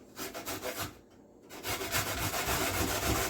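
A carrot is grated on a hand grater in close, rhythmic rasping strokes, a brief pause in the middle, then quicker, harder scraping.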